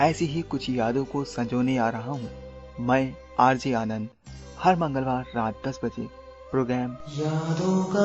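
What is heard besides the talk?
None of the usual background noises is heard.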